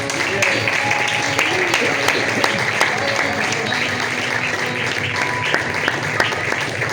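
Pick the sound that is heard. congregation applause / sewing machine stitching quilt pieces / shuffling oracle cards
congregation applause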